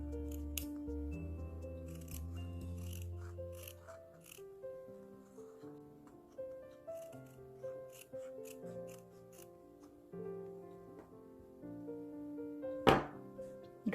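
Scissors snip through fabric in a steady series of close, crisp cuts, soft and quiet, with a sharper thunk near the end.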